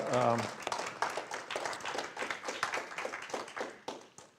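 Audience applause at a church service in a Unity congregation, a steady patter of hand clapping from a room full of people that runs throughout, with a voice briefly heard at the very start.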